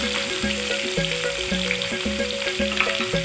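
Onions frying in hot oil for an Assamese duck curry, a loud continuous close sizzle, joined by a repeating stepped tonal hum in the background.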